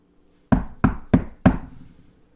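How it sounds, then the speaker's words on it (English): Four firm knocks on a bolted, locked front door at 5:30 in the evening, evenly spaced about a third of a second apart, close and loud in an otherwise quiet room. "There's a knock at the door."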